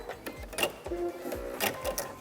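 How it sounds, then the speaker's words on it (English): A sewing machine runs a quick series of mechanical clicks and whirs as its built-in thread cutter snips the thread. About half a dozen close, rhythmic clunks and short motor bursts come with no talking. "And now I'm going to use my thread cutter"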